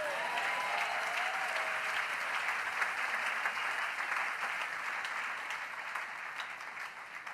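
A church congregation applauds and cheers to praise the Lord, sustained clapping from many hands that fills the room and tapers slightly toward the end, with no talking.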